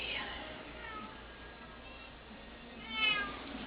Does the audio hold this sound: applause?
no